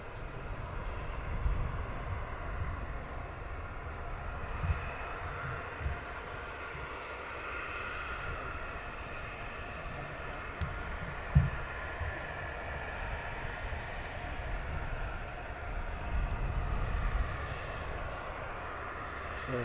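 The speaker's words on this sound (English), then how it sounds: "Very nice looking aircraft." An EasyJet airliner at Luton Airport drones as a steady, fairly distant engine roar that lasts throughout, with faint background noise and a brief click partway through.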